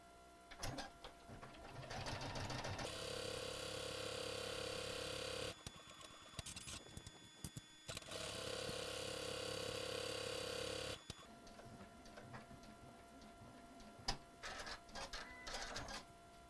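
Sewing machine running in two long sustained bursts as it stitches the long raw edge of a fabric Christmas stocking cuff, the steady motor whir stopping and restarting between passes, with quieter handling noises in the gaps.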